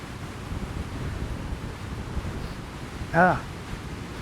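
Sea water and waves rush in fast along a shoreline, a steady roar of surf mixed with gusting wind noise on the microphone. A brief voice-like call rises near the end.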